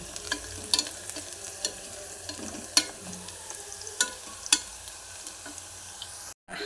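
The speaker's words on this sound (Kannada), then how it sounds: "ಇಲ್ಲಿ ಈರುಳ್ಳಿ ಫ್ರೈ ಆಗ್ತಾ ಇದೆ" Onions frying in a pan while cooking egg rice at home, a soft steady sizzle with scattered sharper crackles and a few clicks of stirring, close and fairly quiet, with a short silent gap near the end.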